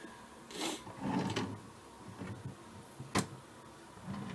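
A wooden desk drawer slides open and shut with scraping rubs and a sharp knock, several short bursts of movement close to the microphone, with no voices.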